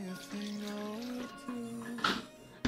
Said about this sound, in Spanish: En este recipiente vamos a colocar agua fría